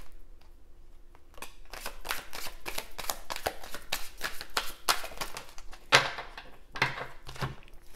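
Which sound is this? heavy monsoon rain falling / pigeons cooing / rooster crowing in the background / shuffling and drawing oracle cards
shuffling and drawing oracle cards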